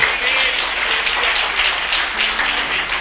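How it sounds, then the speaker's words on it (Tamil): Worshippers at a late-night Tamil Bible study gathering applaud in honour of Jesus, producing a steady wash of loud, close clapping that holds throughout, with some voices underneath. "கைத்தட்டுங்க ஒரு அவருக்கு"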